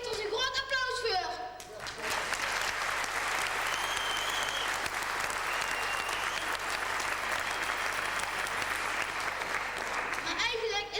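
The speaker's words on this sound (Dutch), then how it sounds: "En geef er eens een groot applaus voor." Big, steady round of applause from an afternoon show audience, dense and continuous for about nine seconds after a brief spoken line at the start, with a voice returning at the end.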